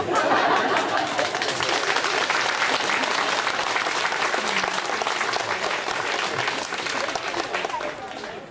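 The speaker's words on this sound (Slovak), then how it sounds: "Ďakujeme vám za mohutný potlesk." Loud, sustained applause fills the space as the audience claps for performers at the Pukanec crafts fair. There are a few chuckles in the crowd, and the clapping thins out near the end.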